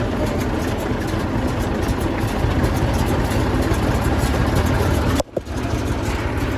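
An IMT 539 tractor engine runs steadily up close at a heavy, low idle, with a brief dropout and knock near the end before it settles again.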